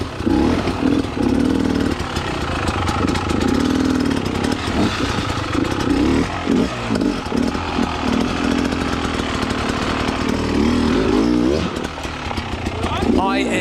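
Dirt bike riding over rocky enduro terrain, a loud close engine drone that rises and falls with the throttle while a person talks over it.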